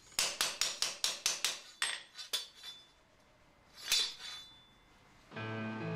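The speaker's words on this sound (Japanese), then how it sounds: "表面を金槌で叩いて均一に成形します。" A hammer strikes a thin saw blade in a quick run of ringing blows, shaping its surface in traditional Tsurugi blade forging in Ishikawa, Japan, then a few slower, spaced taps with metallic clinks, ending in a steady hum.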